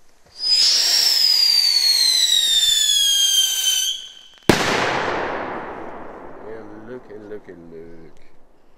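A rising whistle is followed by the sharp, loud bang of a Cobra 6 firecracker exploding outdoors, with a long echoing decay before people's voices come in.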